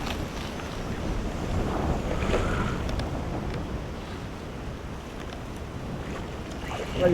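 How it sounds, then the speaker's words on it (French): Storm wind gusting across a lake during a pike fishing trip with surface lures, a steady roaring buffet against the microphone with water and boat noise beneath, swelling louder near the end. "Le vent se met à souffler en tempête et la pluie commence à tomber"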